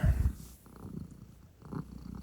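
A cat purrs close by in soft, low, rhythmic rumbles that swell and fade with each breath, a little louder at the very start.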